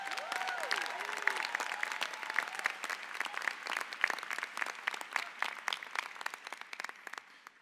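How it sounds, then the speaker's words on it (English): At a Rutgers University–Camden commencement ceremony, graduates give themselves a round of applause: sustained, crisp clapping from a large crowd that holds steady, then begins to taper. "Give yourselves a round of applause."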